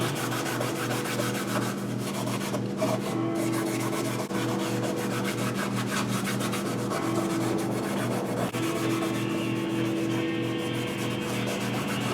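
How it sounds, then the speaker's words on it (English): Steady back-and-forth rubbing of an abrasive pad scuffing a black-painted surface before repainting, continuous and close, with no talking. "Now what we're doing is just scuffing up the black, basically so the paint will stick to it."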